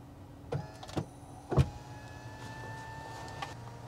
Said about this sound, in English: my seat is now moving back and forward and down